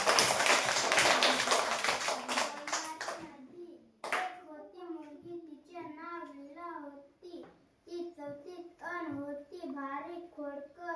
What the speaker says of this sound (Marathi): काळू बाबाजी ठाकरेसाठी जोरदार टाळ्या वाजवा.